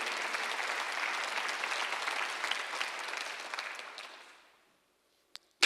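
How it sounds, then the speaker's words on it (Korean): Congregation applause during a Sunday church service, a steady dense clapping that fades out around four seconds, followed by near silence and a sharp brief sound at the end. "박수 한번 주세요."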